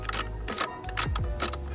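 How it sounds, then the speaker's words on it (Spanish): A screw is loosened and backed out to free the battery of a Chevrolet Spark or Beat, giving a quick run of close ratcheting clicks in a few short bursts. "Primero vamos a aflojar este de acá, este tornillo de acá, y lo vamos a sacar"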